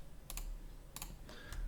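Computer keyboard keys pressed during 3D modeling work, giving three crisp, close clicks, each a quick double tap, spaced about a second apart with no talking.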